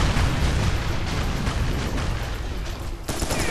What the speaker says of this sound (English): they're bringing out the heavy artillery now